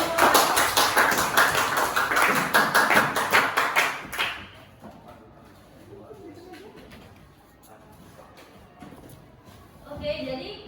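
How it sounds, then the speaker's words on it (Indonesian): Clapping from a morning class or training session audience, a dense burst of hand claps for about four seconds that then stops, leaving a quiet room with faint movement. "Beri tepuk tangan untuk semua."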